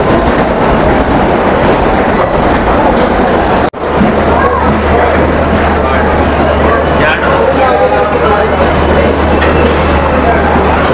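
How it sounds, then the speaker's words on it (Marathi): A train pulls in at a crowded Mumbai railway station in the morning, a loud, constant rumble of wheels and carriages with a brief dropout midway and crowd voices mixed in. "आणि इकडे ट्रेन आलेली आहे,"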